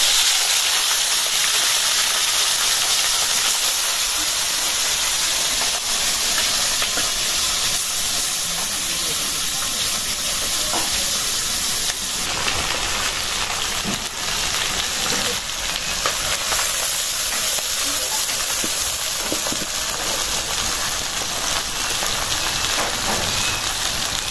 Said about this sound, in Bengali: তেলটা গরম হয়ে গেছে, দিয়ে দিলাম মাছ।